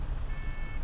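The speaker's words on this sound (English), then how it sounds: "It makes the beeps on the Enviro 200 when you open the door." An Enviro 200 bus door in the OMSI 2 simulator, London Citybus route 201, gives one short steady electronic beep over a low engine hum.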